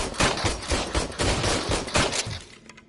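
Gunfire in the video game RoboCop: Rogue City, a rapid fusillade of sharp, loud shots in dense bursts that thin out at the end, with no voices.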